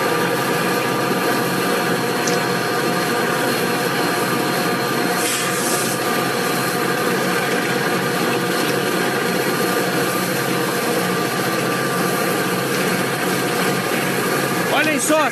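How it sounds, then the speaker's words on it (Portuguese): Five locomotives accelerating together at full throttle on a steep grade, a loud continuous diesel roar and drone filling the whole stretch, with occasional crackling and speech over it. "5 locomotivas acelerando no último."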